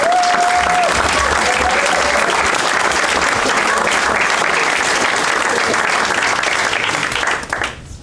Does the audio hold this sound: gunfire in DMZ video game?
no